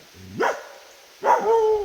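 A dog barks indoors, two loud close barks about a second apart, the second drawn out into a whine, with no one speaking during the barks.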